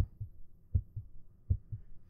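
Heartbeat in the indie horror game Repeat, a low, muffled thump pattern repeating steadily about every three quarters of a second, each beat a pair of soft pulses, fairly quiet and alone without speech.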